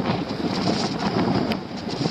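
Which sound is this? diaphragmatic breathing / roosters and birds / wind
wind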